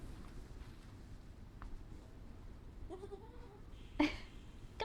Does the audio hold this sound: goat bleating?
yes